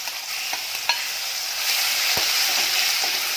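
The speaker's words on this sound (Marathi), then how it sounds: "ते आता ह्या तेलामध्ये परतून घ्यायचं आहे कांदा आहे तो थोडा वेळ परतून घ्यायचा" Onion sautéing in hot oil gives a steady, close sizzle, with occasional light taps and scrapes of a stirring spoon against the pan.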